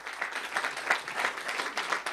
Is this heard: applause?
yes